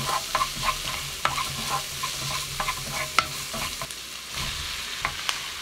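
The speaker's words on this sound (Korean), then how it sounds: "양파를 넣어 30초 볶고" Onion and minced garlic stir-fry in perilla oil over medium heat, giving a close sizzle broken by frequent sharp spatula scrapes and clacks against the pan.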